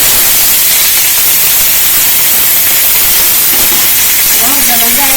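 Curry leaves hit hot oil while mochai sundal is being cooked, setting off a loud, dense sizzle that fills the whole clip, with faint tonal bits near the end.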